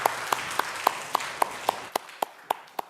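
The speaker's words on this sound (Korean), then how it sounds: "하나님께 영광의 박수를 올려드리겠습니다" A church congregation at Sunday worship claps in a slow, steady rhythm, about a dozen evenly spaced claps over a soft background wash.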